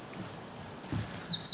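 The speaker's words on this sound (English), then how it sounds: "This is the house wren, a popular sight in this area of northern Kentucky." A house wren sings in northern Kentucky along Beargrass Creek, a run of high, rapid trilled notes rising into a bright bubbling flourish, fairly close over faint background noise.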